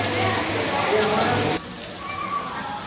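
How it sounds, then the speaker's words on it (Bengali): Heavy rain pours all around in a dense, loud hiss during a city trip from Kolkata toward Chandannagar, the downpour abruptly quieter after the first half, with talking over it. "চারিদিক ঝমঝমিয়ে বৃষ্টি হচ্ছে"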